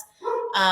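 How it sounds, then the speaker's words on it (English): A dog barks close by, a short harmonic yelp that rises into a louder, sustained bark filling the second half of the moment. "Please excuse my dog barking."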